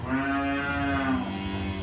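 A Jersey cow on a dairy farm gives a single long, clear moo of nearly two seconds, heard alone.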